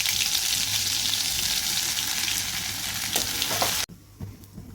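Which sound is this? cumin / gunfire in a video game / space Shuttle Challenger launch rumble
cumin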